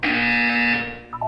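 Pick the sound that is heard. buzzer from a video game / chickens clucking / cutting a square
buzzer from a video game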